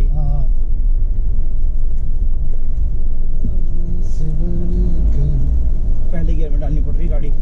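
A car grinds up a very steep hill in first gear, its engine a steady loud rumble throughout, with people talking over it inside the vehicle.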